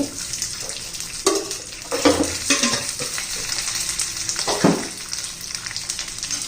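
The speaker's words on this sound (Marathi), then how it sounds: "छान असं शेंगदाणे भाजून निघाले पाहिजे थोडंसं तेल घालते" Peanuts roast in a pan with a little oil added, giving a close, continuous sizzle broken by scraping stirs and a few louder clattering bursts.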